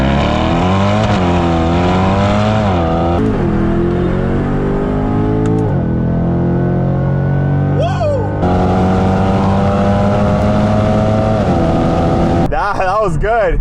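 A C8 Corvette and a Porsche 718 Cayman S accelerating hard from a dig in a street race: engines rev up through repeated gear changes in rising, sweeping tones, loud and close, with voices speaking over parts of the run.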